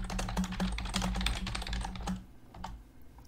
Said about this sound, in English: Actually, I can type information, right?